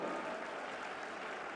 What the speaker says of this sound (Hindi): एक बार जोरदार तालियों से आप इन भावों को